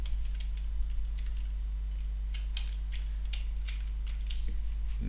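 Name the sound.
typing a git command on a computer keyboard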